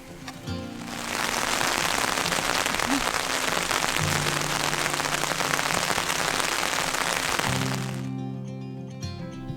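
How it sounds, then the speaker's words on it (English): Steady light drizzle patters and hisses on a surface at Llyn Fan Fawr in the Black Mountain, Wales, a dense even wash of fine drops with a few low rumbles underneath, no voices. "still drizzling"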